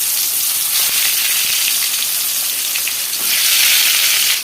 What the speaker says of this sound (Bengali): এই যে কড়াইতে তেলটা গরম করে ফেলেছি, মানে তেলটা অলরেডি অনেক গরমও হয়ে গেছে। তো বেগুনটা দিয়ে দিলাম